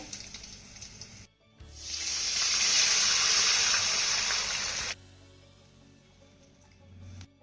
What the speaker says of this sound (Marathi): यामध्ये आपल्याला एक ते दीड ग्लास पाणी घालायचं आहे